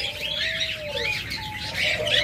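Lovebirds and budgerigars in a bird shop chirp and twitter in bright overlapping bursts, close and fairly loud, with some faint wing flutter and no talk.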